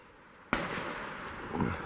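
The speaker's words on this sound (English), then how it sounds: "there's people shooting all over the place, getting that time of year" A single sharp gunshot from people shooting in the hills above a forest road cracks out and rolls away in a long echoing decay across the open landscape.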